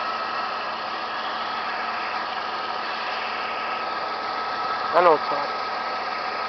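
Idling 3.3-liter V6 engine of a 2000 Dodge Caravan, steady and close with a constant mechanical hum, while a person speaks briefly over it.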